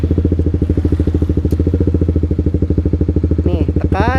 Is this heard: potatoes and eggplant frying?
no